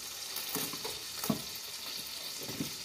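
Garlic frying in a pan with butter and honey, giving a soft, steady sizzle with scattered small crackles and pops, fairly quiet and close, with no talking.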